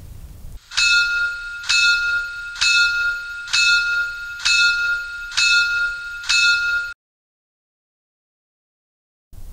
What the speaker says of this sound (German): F4 Glocke.